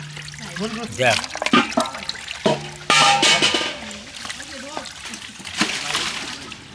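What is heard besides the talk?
water rinsing while washing food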